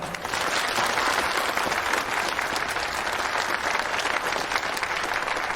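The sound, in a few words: audience applause at a drama premiere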